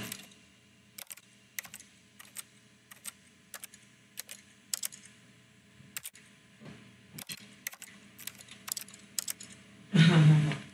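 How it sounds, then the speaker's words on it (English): Mouse clicks in The Stanley Parable, the game echoing each click of the player's mouse: a dozen-odd crisp, close clicks at irregular intervals over quiet background, ending with a brief burst of louder noise. "Whenever I click my mouse, the game makes the sound of mouse clicking."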